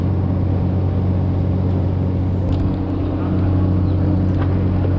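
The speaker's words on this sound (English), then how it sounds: "We finally arrived at my ride for today, which turned out to be a pretty ancient old Fokker turboprop." An old Fokker turboprop airliner, over 30 years old, drones with a loud, steady engine hum and rumble, constant throughout, with faint voices nearby.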